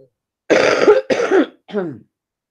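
A few rough coughs or throat-clearing bursts in quick succession, close and fairly loud, with the last one shorter and weaker.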